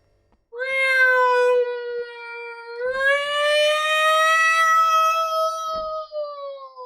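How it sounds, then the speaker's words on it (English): A police siren effect from the survival horror game Obscure: one long wailing tone that jumps higher partway through, then slowly sags in pitch over several seconds, loud and alone. "I need to get a police siren."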